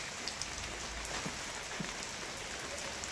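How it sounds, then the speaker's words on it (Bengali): Rain falls outside a second-hand motorbike showroom in Midnapore, a faint, steady patter with a few scattered drop ticks and no voices. "বৃষ্টি হচ্ছে বাইরে"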